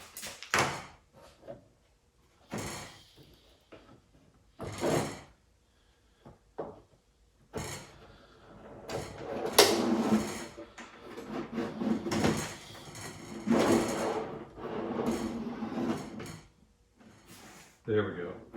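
A wooden drawer insert slides in and out on drawer slides several times, giving close rolling glides and soft wooden knocks between pauses.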